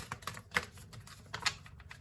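Tarot cards from the major arcana are shuffled nearby, giving soft, scattered clicks and light flutters at an uneven rhythm, fairly quiet, with no talking.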